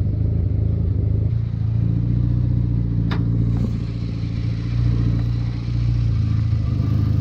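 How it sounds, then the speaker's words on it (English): A two-stroke engine idling loudly and steadily nearby with a buzzy rattling drone, easing slightly in the middle before holding its pitch again. "Running like a well two-stroke oiled machine."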